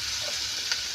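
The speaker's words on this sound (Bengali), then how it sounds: "পেঁয়াজটা ভাজতে হবে ভালো করে, একটু লাল করে" Onions frying in a pan make a steady, even sizzle for about a second, heard close up with a faint stirring click and no talking.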